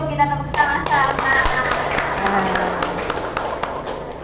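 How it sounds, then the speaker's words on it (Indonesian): Classroom pupils clap together in a teaching practice session, a burst of rhythmic claps mixed with voices and tonal sounds at the start, then a looser scatter of claps. "Cukup, kita tepuk sama-sama."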